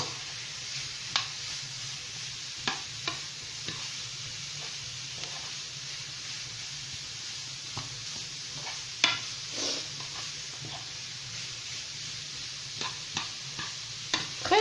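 Chicken bolognese sauce with grated tomatoes cooking in a pan, a steady bubbling sizzle underneath while a utensil scrapes and taps through it in scattered strokes, close and moderately loud.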